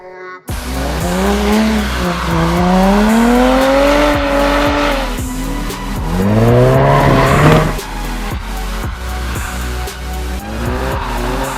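A Jaguar car on a wet track squeals its tires in long, wavering bursts while the engine drones and revs underneath, loud and sustained through repeated skids.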